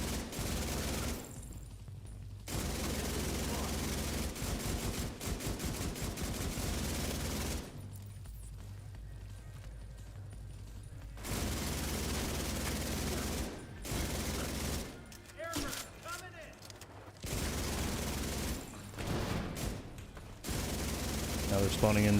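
Sustained automatic gunfire in The Division 2, long dense stretches of rapid shots broken by brief pauses, loud and close, with game sounds and a voice mixed in.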